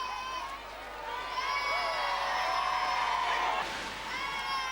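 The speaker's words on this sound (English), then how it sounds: "Round the corner and into Castle Square, where the crowds are waiting." Crowds in Castle Square, Wales, cheering as the Princess and Prince of Wales pass in 1981, a sustained outdoor roar of voices and shouts with a brief dip before rising again.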